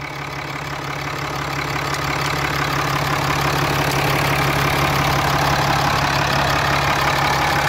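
A 2014 Ram 3500 dually's 6.7-liter Cummins turbo diesel inline six idling, a steady, loud, even rumble with a low knock that holds throughout, no voices over it.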